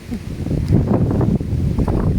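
Gusty wind buffets the microphone with a low, rumbling roar that swells and dips throughout.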